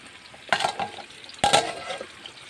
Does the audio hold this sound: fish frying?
yes